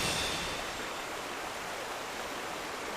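A steady, broad rush of falling water from a waterfall in a fantasy online role-playing game, continuous and fairly loud, with no voices over it.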